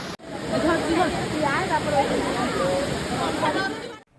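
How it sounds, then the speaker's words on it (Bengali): Water streams steadily over the Panchalingeswar lingam at the temple in Balasore, giving a constant rushing, splashing hiss close by, with a voice talking over the flow. "বাবা পঞ্চলিঙ্গেশ্বরের মাথার উপর দিয়ে এই জলটি বয়ে চলেছে নিচের দিকে"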